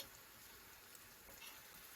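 Banana fritters (pisang goreng) sizzle steadily in a pan of hot oil, a continuous close bubbling hiss with faint crackles and no talking.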